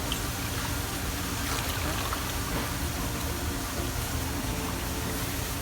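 Rice batter pours and trickles through a fine strainer, a continuous wet, hissing dribble held close and steady throughout.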